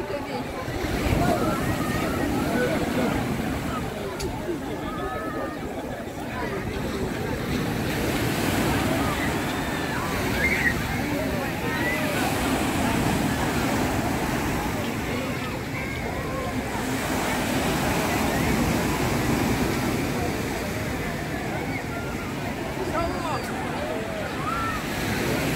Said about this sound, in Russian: Такие волны.